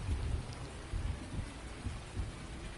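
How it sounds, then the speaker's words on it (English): Rain falls steadily in a PS4 farming game on the No Man's Land map, with low thunder rumbling in repeated soft swells beneath it, all faint and distant. "I hear the thunder in the background."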